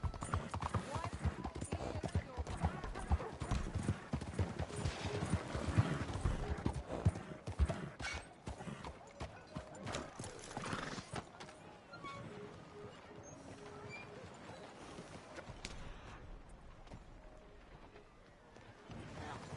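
Hooves of a galloping horse in Red Dead Redemption 2 pound in a fast, rhythmic clip-clop that stays close and continuous. Voices speak over it, and the hoofbeats ease off toward the end.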